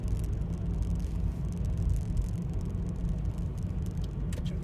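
Steady low engine rumble and road noise heard from inside a car driving near a mini roundabout, a continuous drone with no talking.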